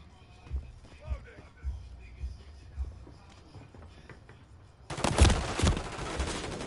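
Bursts of automatic gunfire from the Modern Warfare 3 beta break out loudly after several seconds of quieter shuffling and soft thuds, with rapid shots rattling close.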